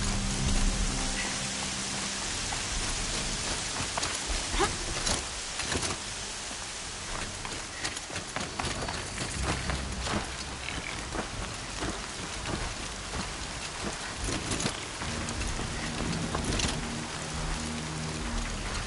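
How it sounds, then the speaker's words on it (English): Steady rain pours in the Horizon video game, a dense continuous hiss of drops striking surfaces with scattered louder splashes and a faint low rumble beneath, loud and unbroken throughout with no talking. "Rain's not so bad."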